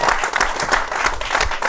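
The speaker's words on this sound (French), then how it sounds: "On l'applaudit." Studio audience at a French-Arabic talk show applauds a guest, a loud, close burst of clapping with slightly uneven rhythm, no voices over it.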